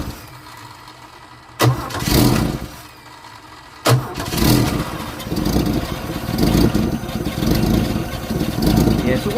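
An EH Holden ute's engine, fed only from fuel poured into the carburettor float bowl, cranks briefly, then cranks again and fires, settling into a steady, fairly loud running note close by.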